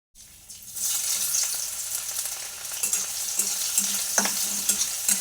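Dal being tempered in a pan, a loud hiss of frying bursting in and holding steady, with repeated scraping strokes of a spoon against the metal, close and with no talk.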